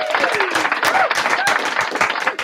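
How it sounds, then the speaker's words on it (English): A crowd applauds steadily, dense clapping throughout with cheers and a few voices calling out over it. "Give a round of applause."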